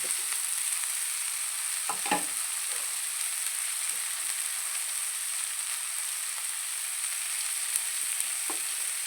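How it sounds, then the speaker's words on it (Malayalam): Drumstick leaves in a stir-fry hiss in a hot pan as a constant bright sizzle, with a few soft scrapes and knocks of stirring on top, close and without talk. "നന്നായിട്ട് ഇളക്കി കൊടുക്കാം"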